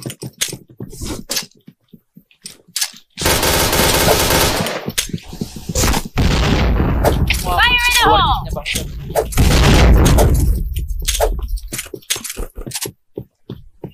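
Gunfire and a grenade blast in the shooter game Point Blank: scattered sharp shots, then a long loud stretch of heavy automatic fire and booming, with a voice speaking briefly under it before it tapers off into more isolated shots.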